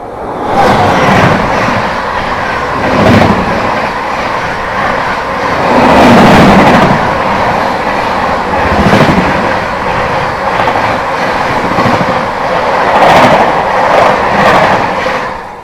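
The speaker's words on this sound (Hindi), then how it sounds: "सामने से अपने से क्रॉस होने आती हुई भटिंडा गोरखपुर गोरखधाम एक्सप्रेस।" The Bathinda–Gorakhpur Gorakhdham Express passes on an Indian railway line with a loud, sustained roar and rhythmic clickety-clack of wheels over rail joints, swelling and easing repeatedly at close range, with no talk.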